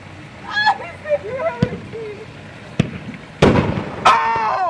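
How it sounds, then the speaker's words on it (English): Fireworks in a backyard go off in a few sharp, loud bangs with crackling, spread across several seconds, while excited voices talk and shout throughout. "This got fireworks in the backyard!"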